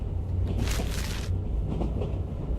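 A train runs on rails through a snowbound town in the game Leaving, giving a steady low rumble and clatter with a brighter swell of rail noise partway through, moderately quiet and without speech.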